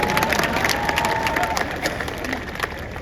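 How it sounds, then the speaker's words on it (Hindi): Crowd applause at a political rally welcoming an AIMIM leader in Chandrapur, a dense wash of many hands clapping throughout, fairly close and steady with faint cheering mixed in. "तालियां बजाओ मोदी जी के लिए।"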